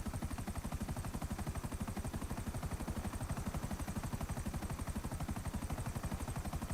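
Video game helicopter, a steady rapid rotor chop that pulses evenly and continuously at moderate level, unchanging throughout with no voices.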